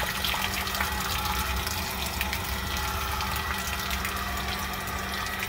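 Hot water runs steadily from a tap into a bathtub in a bus being lived in during a Siberian arctic cold snap, a constant broadband rushing with a low pump-like hum, no talk.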